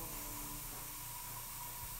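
Fluorescent spray paint hissing from a can onto a garage kit figure, a steady, even broadband hiss held for about two seconds over a low background hum, with no talk.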